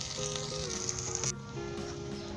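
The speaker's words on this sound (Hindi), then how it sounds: "गाजर, शिमला मिर्च और प्याज डालकर इसमें सौते करूँगा।" Carrot, bell pepper and onion sautéing in a pan, a steady close sizzle that runs without break, with faint clinks of stirring on top and no talk.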